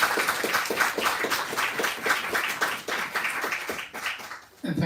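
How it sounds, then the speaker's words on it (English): An audience claps for readers at a radical book fair program launch on a rainy autumn night, steady dense applause from a small indoor crowd lasting several seconds before tapering off. "another round of applause to all of the readers that we have tonight"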